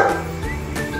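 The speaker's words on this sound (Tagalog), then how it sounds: "ingay ng aso ko" A pet dog gives short yips and whiny barks close by, two or three brief tonal calls in about a second, fairly loud, with no talking.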